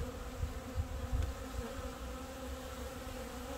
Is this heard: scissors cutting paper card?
no